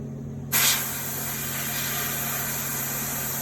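An Iwata LPH-80 spray gun bursts on with a sharp rush of air and paint, then settles into a steady, loud, continuous hiss held close for the rest of the stretch, with no speech.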